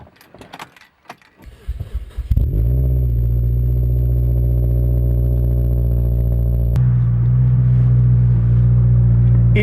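A Mazda MPS being started: a few clicks and rattles like keys at the ignition, then the engine catches and settles into a loud, droning idle that steps up to a heavier, deeper note partway through.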